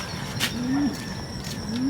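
Racing pigeons coo softly at close range, with two low rising-then-falling coos and faint chirps over steady outdoor background noise.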